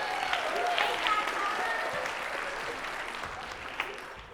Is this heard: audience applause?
yes